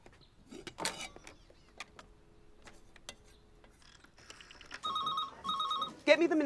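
A telephone in a thriller film scene rings with two electronic bursts after scattered clicks and rustles, and a short sharper sound follows at the end.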